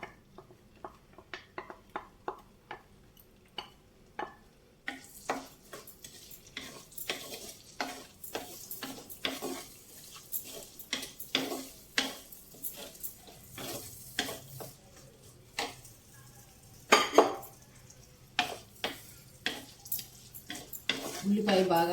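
Onions, green chillies and curry leaves frying in a pan for a mushroom and chana dal curry, with soft sizzling under repeated scraping stirs in a steady rhythm, close and fairly quiet, and occasional louder clatter.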